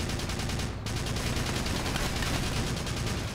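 Steady, dense rattle of gunfire from the Battalion Wars video game, many rapid shots blending into a continuous crackle at even loudness, without talk.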